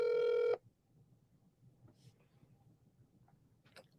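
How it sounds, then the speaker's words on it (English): A telephone rings during an outgoing call to someone who is not answering. One loud, tonal ring burst is cut off after about half a second, followed by faint, quiet line noise with a few small clicks. "he's not picking up, so I'm calling another person"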